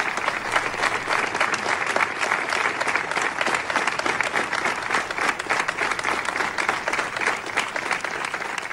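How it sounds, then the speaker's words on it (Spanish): Neighbours applaud together out in the street, a dense, continuous crackle of many hands clapping at full strength for nearly nine seconds with no talking over it. "Escuchen una muestra del apoyo de los vecinos en plena calle. Estos aplausos hablan por sí solos."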